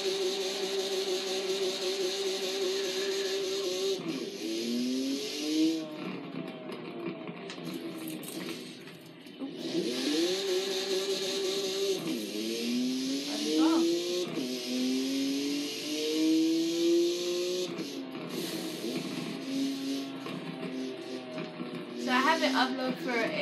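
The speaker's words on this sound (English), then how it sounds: "Let me actually talk in here because this car is loud." BMW M4 police car in the Forza Horizon 4 racing game, its engine revving and rising through gears in repeated climbing sweeps, with a person talking over it throughout.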